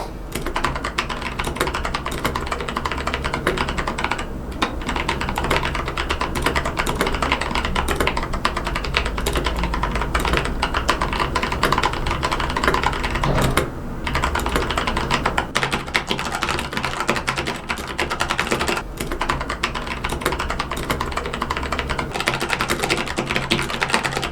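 Steady, continuous typing on a lubed ABKO Hacker K2000 mechanical keyboard with brown switches, a dense run of close keystrokes with only a couple of brief pauses and no talk.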